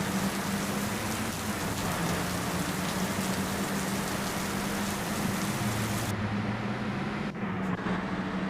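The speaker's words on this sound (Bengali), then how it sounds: "বৃষ্টি শুরু হয়ে গেল" Rain begins falling during a slow drive through heavy traffic, a constant broadband hiss with a low, steady engine hum underneath and no talking.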